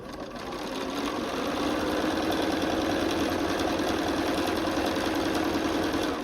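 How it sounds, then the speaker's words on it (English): Sewing machine stitching quilt pieces for a sunflower window hanging, a steady, fast mechanical whirring hum that starts up and runs continuously, close and alone with no talk. "I'm going to set it under my presser foot and sew"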